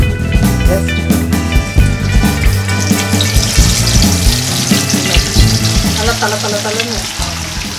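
Loud, steady sizzling of seer fish (sankara) frying in hot oil, crackling continuously close up, with a brief voice speaking over it.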